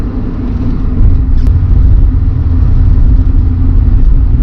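A Nissan Pulsar NX (EXA) rolling over bumps, heard as a steady, loud interior road rumble with low engine drone throughout and a faint knock around the middle.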